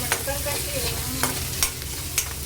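Oil heats in a pressure cooker as whole spices fry in it, with a continuous close sizzle and a few sharp crackles and stirring scrapes.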